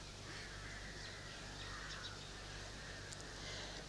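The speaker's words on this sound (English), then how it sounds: "that the crows should stop their noise" Crows caw faintly in the distance, a few sparse calls over a soft, steady outdoor background.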